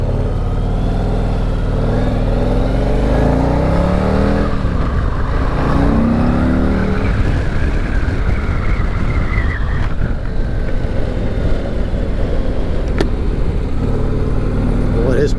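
A 2023 Harley-Davidson CVO motorcycle accelerates in a loud, close engine roar that climbs in pitch through the gears, heavy wind rush over it, with someone talking throughout.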